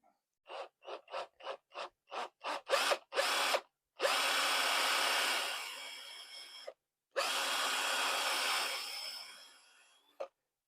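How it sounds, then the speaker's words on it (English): A 10mm drill bores into a robot hand finger part, first in a quick series of short bursts, then two longer whirring runs that wind down, close and clear with no talk. "use 10mm drill."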